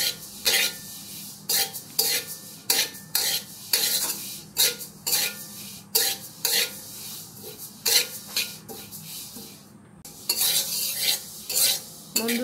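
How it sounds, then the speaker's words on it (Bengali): Sesame seeds are dry-fried in a pan while a utensil scrapes and stirs them in repeated rhythmic bursts, each stroke a crisp rasping sweep with short pauses between, close and clear. "বন্ধুরা তিল কিন্তু অনেক মানে সতর্কভাবে ভাজতে হবে"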